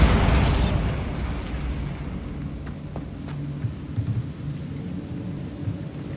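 Bombarda blasting spell going off in Hogwarts Legacy: a sharp, loud explosion right at the start, then a rolling, thunder-like rumble that tapers off, dotted with scattered debris cracks and pops.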